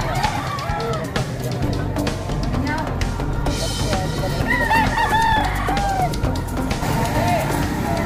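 Many chickens and roosters at the Padre Garcia, Batangas livestock auction market before dawn, with roosters crowing repeatedly amid clucking and a busy crowd of people talking throughout.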